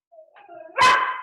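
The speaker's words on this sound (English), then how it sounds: "my dog is barking at me." A single dog bark, close and loud, preceded by a brief whiny yelp.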